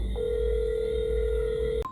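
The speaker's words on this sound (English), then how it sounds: "Phone a ring already." An electronic telephone ring sounds as a single steady tone, loud and close, then cuts off abruptly near the end with a brief click and a higher blip.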